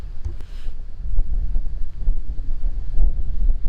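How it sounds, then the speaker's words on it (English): Strong wind gusts buffet an outdoor microphone at a rural church site, a loud low rumbling roar that swells and dips continuously for several seconds with no voices. "Wow, that's a lot of wind."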